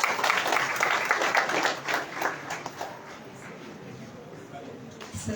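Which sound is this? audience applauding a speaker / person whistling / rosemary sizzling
audience applauding a speaker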